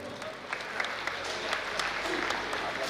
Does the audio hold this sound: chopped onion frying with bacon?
no